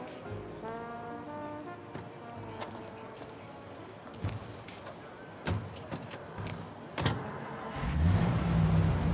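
A car engine running while driving through a 1930s-styled city in Mafia: Definitive Edition, a low steady hum with occasional knocks, swelling louder at the end as the engine revs; no talk over it.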